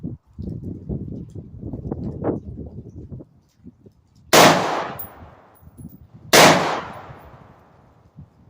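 Two loud, sharp gunshots fired at a target ring out several seconds apart, each with a ringing decay, following a stretch of talk.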